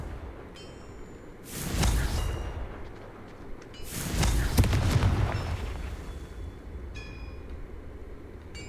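Two heavy booming blasts of the Confringo spell in Hogwarts Legacy, each a broad roaring burst with a rumbling tail, the second longer and louder, set against a quiet game soundscape with faint chimes.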